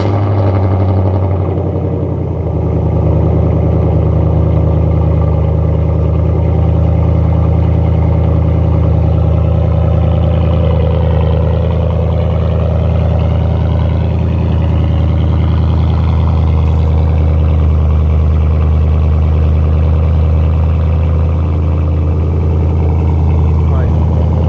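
A 2021 Chevrolet Silverado with a 6.2L V8 and true dual exhaust with an X-pipe idles, heard from inside the cab as a steady, deep, continuous rumble, with a voice talking over it.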